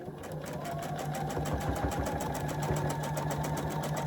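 Rapid rhythmic stitching from a sewing machine running over tape along a quilt seam, close, steady and continuous with no talking.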